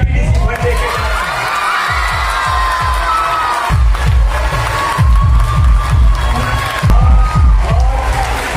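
A large crowd at a school privatization protest in Malvani Township claps and cheers loudly and continuously, with a dense rhythmic patter of applause, shouts rising over it, and voices mixed in.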